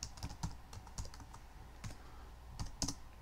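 A password being typed on a computer keyboard, heard as a quick, irregular run of close, light key clicks with a few louder taps near the end.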